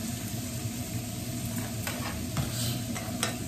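Rice being stir-fried in a pan for fried rice, with a steady broadband sizzle and repeated scraping stirs from a utensil, close and continuous with no talk.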